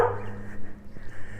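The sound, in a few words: unhappy dog barking and whimpering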